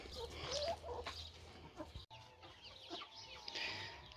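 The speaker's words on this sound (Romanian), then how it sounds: "Am dat grâu aici la găini." Hens cluck and murmur close by in a small group while eating wheat, with scattered clucks and soft chatter over a low background hum.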